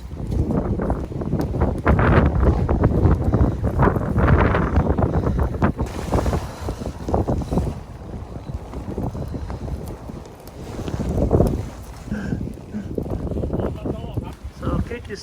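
Strong wind buffets the microphone throughout while fishing at sea from a boat, with waves and water washing around and a person talking over the roar.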